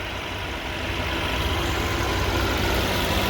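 A 2020 Mercedes-AMG A35 with a 302-horsepower 2-liter turbocharged inline-4 sits idling, holding a low, even rumble close by with no talk over it.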